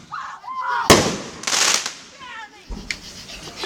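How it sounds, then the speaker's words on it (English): A mortar shell firework fires and bursts, a sharp boom followed by crackling blasts and another pop, loud and nearby, with people's voices exclaiming around it. "It's a mortar shell."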